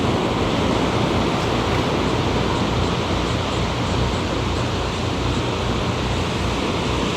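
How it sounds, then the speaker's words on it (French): Sea waves washing onto a black-sand beach at night, a constant loud roar of surf filling the whole stretch with no pauses and no voices. "j'ai les vagues qui arrivent"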